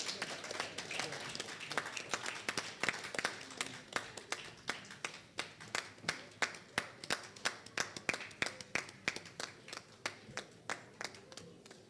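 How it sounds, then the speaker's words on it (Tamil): Audience applause at an award ceremony for a pen-pal association branch inauguration, heard as a steady run of sharp, distinct hand claps, fairly sparse and moderately loud, continuing for several seconds with no talk over it. "அனைவரும் கைத்தட்டுமாறு அன்போடு கேட்டுக்கொள்கிறேன்."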